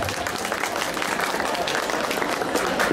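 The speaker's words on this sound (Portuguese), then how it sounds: "palmas pro Marino e Elaine." Applause from a crowd at a cosplay awards ceremony, steady dense clapping filling the whole stretch without a break.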